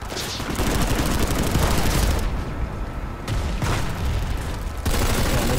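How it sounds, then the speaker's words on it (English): Rapid bursts of pistol gunfire in the sci-fi shooter PlanetSide 2, loud and dense, with short gaps between volleys and no talk over them. "Seriously, burst fire pistol."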